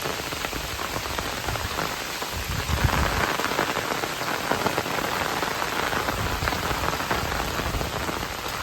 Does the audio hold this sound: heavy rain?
yes